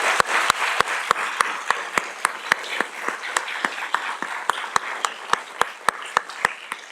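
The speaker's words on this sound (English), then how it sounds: "Let's give a round of applause for that" Audience applause at a Yale School of Engineering lecture honouring a graduate medal recipient, steady crowd clapping with a few sharp, evenly spaced louder claps cutting through close by.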